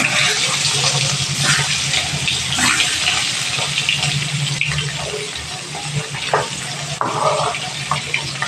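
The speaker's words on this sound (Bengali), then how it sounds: "ডিমটা গ্যাসের ফ্লেমটা মিডিয়ামে রেখে ডিমটা একটু কড়া করে ভেজে নেব।" Eggs fry in hot oil in a pan over a medium gas flame, a steady close sizzle running throughout with occasional louder crackles and pops.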